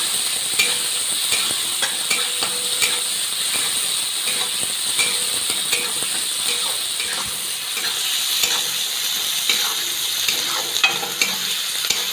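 Tomatoes and curry leaves sautéing in a pan over heat, a loud continuous sizzle with light clicks and scrapes of stirring scattered through it, close up, no speech.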